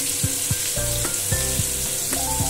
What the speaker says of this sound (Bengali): এটা দিয়ে এবার আমি ভালো করে আলুটাকে লাল লাল করে ভেজে নেব।